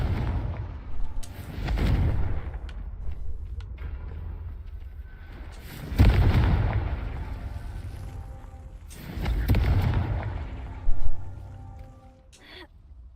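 Confringo fire-blast spells in the Hogwarts Legacy video game land as three heavy, booming explosions spaced a few seconds apart, each one a loud rumbling burst that fades out, with small clicks between them.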